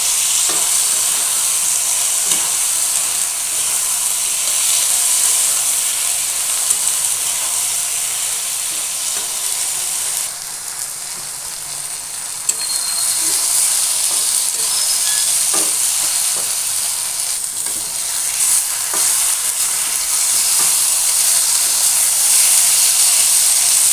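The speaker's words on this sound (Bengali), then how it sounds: "মশলাটা কষানো হয়ে গেছে, দিয়ে দিচ্ছি কাঁচা কলাগুলো।" Raw green plantains frying in a cooked-down spice masala for a rohu fish curry, a loud continuous steamy sizzle and hiss filling the whole stretch, with a short dip and a few clicks of stirring.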